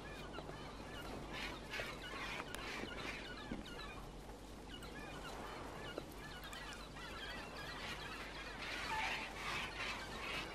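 Birds flying around in the video game Broken Age, a constant bed of honking, goose-like calls and squawks overlapping throughout, moderately faint with no talk.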